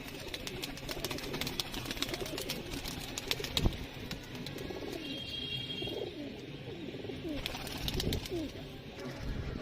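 Pigeons coo steadily in a kabootar breeding loft in R.S. Pura, Jammu, with a few chirps and wing flutters over a busy background of birds.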